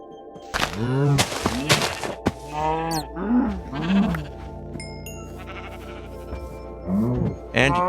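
Several sheep in classic Minecraft bleat in quick succession, loud and close, with short gaps and a few sharp clicks between the calls.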